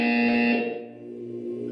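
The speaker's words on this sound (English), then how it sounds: "You will hear a buzzer." A single steady electronic buzzer tone in the Portal 2 video game, loud and sustained for about half a second before fading into a lingering hum.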